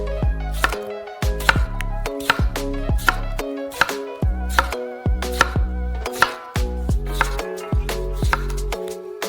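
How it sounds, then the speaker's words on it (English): A knife slices a tomato into circles on a board, a steady run of crisp knocks at an even, brisk rhythm, close and clear with no talking. "cut the tomato into circles"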